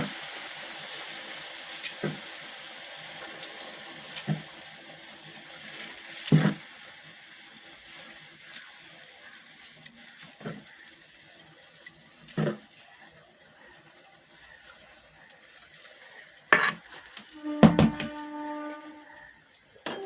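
Pitha frying in hot oil for Makar Sankranti gives a soft, steady sizzle, broken by scattered sharp crackles and pops and a brief clatter near the end, with no voices.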